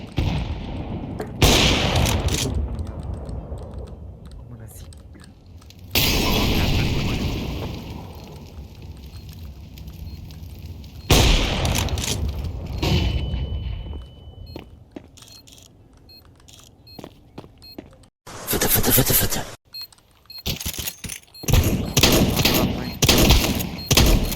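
Loud shotgun blasts and gunfire bursts from a Counter-Strike 2 match come in several separate volleys, with sharp cracks and a metallic ring between them, while players talk over the action.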